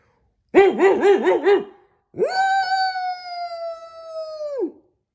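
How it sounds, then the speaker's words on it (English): A dog lets out a quick run of five sharp barks, then a long, steady howl that drops away at the end. No one speaks. "Old Towser's barking woke up a cat named Sergeant Tibbs."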